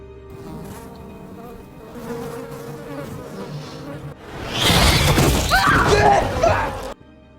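Flies buzz and drone, with the buzzing growing louder and busier in the second half before ending abruptly.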